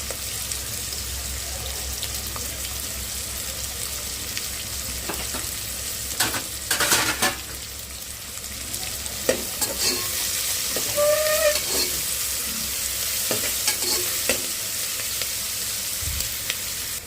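Onions frying with curry leaves and mint in a pan for a Telugu mutton tripe curry, a steady sizzle under repeated scraping stirs that cluster between six and fifteen seconds, close up with no talk.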